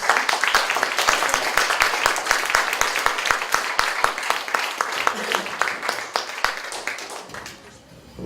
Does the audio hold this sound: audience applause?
yes